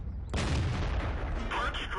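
A heavy tank cannon in World of Tanks, a Tier 8 Caernarvon firing premium gold rounds, lets off one loud boom that rolls into a long, dense rumble. Talk runs underneath.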